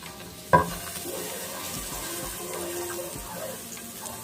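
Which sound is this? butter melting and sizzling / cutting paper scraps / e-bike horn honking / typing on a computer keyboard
butter melting and sizzling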